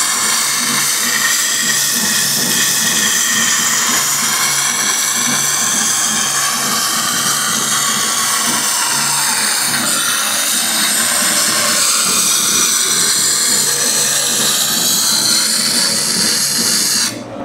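A noisy grinding wheel sharpens a thick metal knife blade, giving a loud, continuous high-pitched whine and hiss that holds steady close by until it cuts off at the very end.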